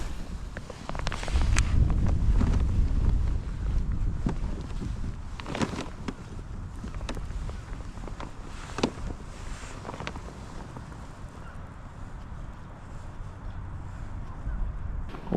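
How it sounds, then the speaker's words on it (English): Wind blows over a lake around a fishing boat, a heavy rumbling buffet at first that eases into a steadier gusty roar, with scattered knocks and thumps from the boat. "We are going to be battling this wind today."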